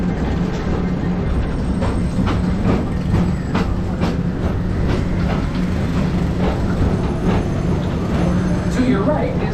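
Tomorrowland People Mover cars at Disney roll along their elevated track with a steady rumble and rhythmic clicking, while a recorded announcement plays over the ride's speakers.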